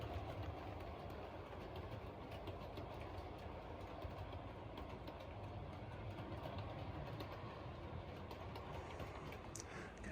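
A B1 locomotive runs round a Yorkshire Dales model railway layout, giving a quiet, continuous rumbling roll with faint clicking over the track, steady and unbroken throughout.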